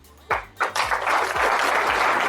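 An audience at an MLM meeting claps, starting with a few separate sharp claps and building into steady, fairly loud applause, with a low hum underneath.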